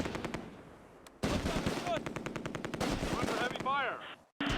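Machine gun bursts rattle in rapid repeated volleys during a World War II battle in the Close Combat A Bridge Too Far strategy game, with a brief radio-style voice and a short silence near the end.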